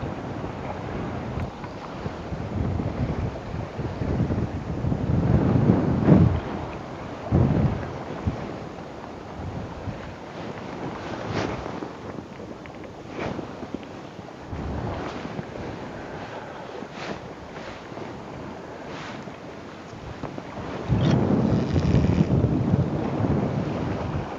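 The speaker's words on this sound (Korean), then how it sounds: "바람이 더 부네요" Strong wind gusts rumble and buffet the microphone on a sea fishing outing for black porgy, with a broad roar that swells and eases and gets louder near the end, alone without talk.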